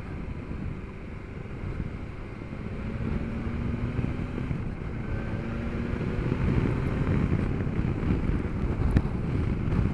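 Wind noise while riding a BMW S1000XR motorcycle: a broad, steady rushing roar that grows slightly louder toward the end, with faint engine tones underneath.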